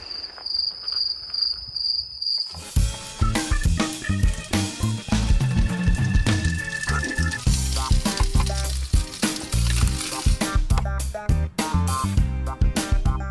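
Crickets chirp alone in quiet for a moment, then a loud, dense sizzle of food frying in a pan takes over, crackling steadily with clinks and stirring, in southern Norway.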